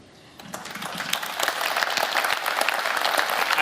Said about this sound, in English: let's give another round of applause for our amazing debaters